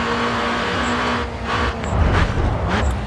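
Race car engine roaring in the GRID 2 racing game, a steady loud drone with shifting pitch as the car brakes and accelerates into a corner, rising to a rougher surge near the end.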